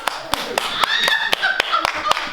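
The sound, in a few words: theatre audience applause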